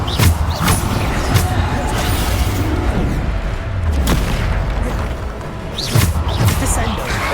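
A Bombarda explosion spell in the Hogwarts Legacy video game goes off in several heavy booms with whooshing bursts, mixed among other spell effects and busy combat noise.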